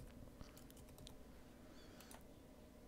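Typing on a computer keyboard, a quick series of faint clicking keystrokes in short bursts over a low background hum, with no talking.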